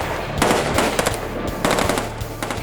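Fully automatic weapons fire in rapid bursts at a car armored with phone books, loud close rattling volleys with short pauses between them.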